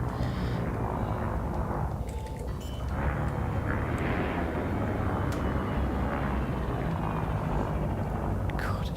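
Spaceship landing gear deploying in Elite Dangerous, a steady roaring engine-like rumble with airy whooshes that holds loud and continuous throughout.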